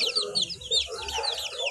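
Several chickens cluck and chirp close by, short overlapping calls in a busy, irregular chatter.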